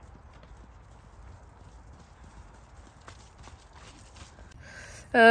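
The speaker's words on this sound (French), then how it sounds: "Le poney arrive aussi. Vous allez le voir passer dans quelques secondes." A pony's hooves clip-clop past in a steady walking rhythm, fairly soft and somewhat distant, ending in a sudden loud burst of noise.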